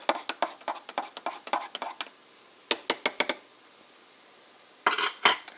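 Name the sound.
spoon stirring carbonated coffee in a glass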